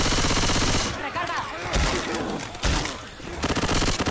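Loud, rapid gunfire from the Left 4 Dead 2 video game comes in dense, repeated bursts across the clip, with a brief lull partway through.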